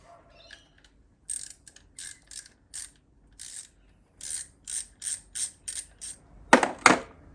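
Ratchet wrench tightening screws on the ignition coil pack of a Holden GM 3.8 engine: about a dozen short, crisp bursts of metallic clicking in an uneven rhythm, close up, ending in two louder clacks, with no talk.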